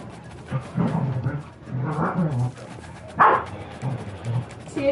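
A dog barks a few times at close range, with one louder, sharper yelp near the middle. The barks are mixed with murmuring voices and background noise.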